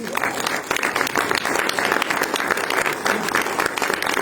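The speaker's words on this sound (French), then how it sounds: "Je crois qu'on peut l'applaudir à nouveau." An audience at a cinema club event in Canet applauds actor Dominique Pinon, with steady, dense clapping from many hands that stays loud and continuous throughout.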